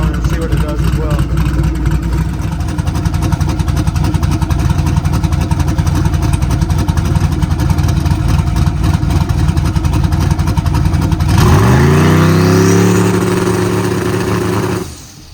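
A twin-turbo Mopar car engine idles loudly and steadily while warming up to temperature, then revs sharply near the end before settling back, heard up close.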